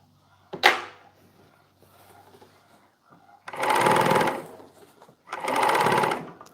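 A sewing machine stitches a hat seam in two loud, steady runs of about a second and a half each, after a sharp clack and some quieter handling noises, with no talking.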